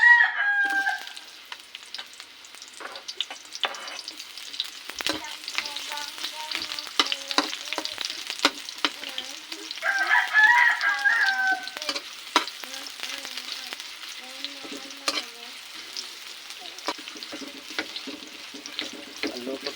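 Onion sizzles and crackles in hot oil for papaya flower adobo, with frequent stirring scrapes and a rooster crowing in the background, loudest around the middle; no speech is heard.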